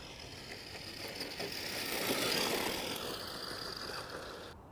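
Tamiya RC car driving off-road at full throttle, a steady high-pitched electric motor whine that swells and fades slightly across the run, close and continuous.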